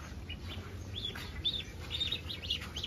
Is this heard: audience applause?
no